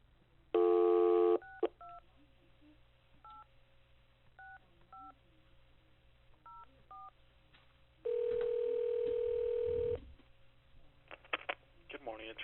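Telephone dialing to the Attorney General's office: a dial tone, then a rapid series of short touch-tone beeps keyed one after another, followed by a ringback tone, all faint over a quiet line.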